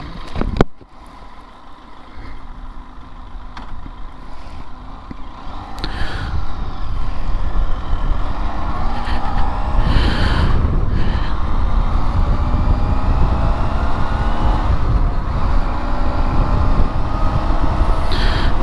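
A Benelli TRK502 X motorcycle pulls away and cruises on the road, steady engine drone rising through the gears under heavy wind rush, loud and constant from the rider's position.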